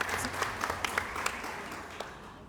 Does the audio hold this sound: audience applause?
yes